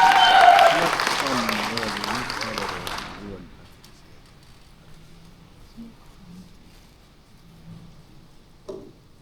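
An audience at a Korean achievement-sharing session claps for a presenter, a dense burst of applause under a voice, fading out after about three seconds into near quiet with a faint murmur.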